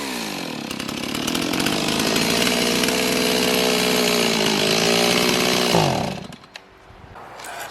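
A Stihl MS260 chainsaw runs loud and close at high throttle, its buzzing tone dipping and wavering as it bogs, before dropping abruptly to a rough, sputtering idle.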